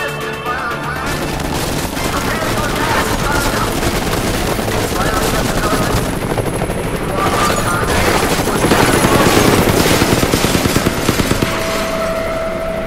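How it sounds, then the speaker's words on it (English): Helicopter machine gun fire in the Deadlight video game rattles in continuous rapid bursts with crashes and booms, loud and dense under game music and a voice talking throughout. "we can easily take down the zombies with the helicopter's fire"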